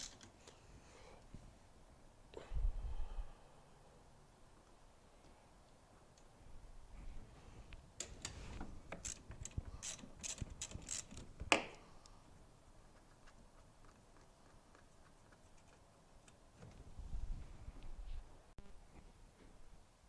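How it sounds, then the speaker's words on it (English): Ratchet wrench loosening 13mm nuts on the wiper arms of an 8th-generation Chevrolet Impala W-body wiper deck: bursts of quick, fine clicking and metallic creaks, close but fairly faint, with pauses and some handling thumps between. "Now we can remove the 13mm nuts holding the wiper blade, holding the wiper arms on."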